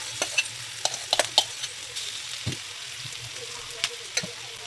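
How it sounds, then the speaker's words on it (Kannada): Mashed potatoes frying in a pan for aloo paratha filling, stirred with a series of close scraping clicks and light taps over a soft, steady sizzle. "ಸೊ ಸ್ಮ್ಯಾಶ್ ಮಾಡ್ಕೊಂಡಿರೋ ಆಲೂಗಡ್ಡೆ ಹಾಕ್ಕೊತಾ ಇದ್ದೀನಿ."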